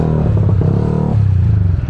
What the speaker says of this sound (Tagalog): Traffic again. Daming mga sasakyan sa gitli.